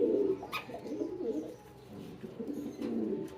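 A racer homing pigeon coos in low, throaty murmurs, with several rolling calls close by over a quiet background.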